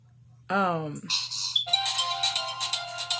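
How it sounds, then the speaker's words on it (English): A phone ringtone for an incoming call plays as a bright, repeating electronic melody after a brief rising tone, continuing steadily and fairly loud without anyone speaking over it. "Sorry, I be getting phone calls."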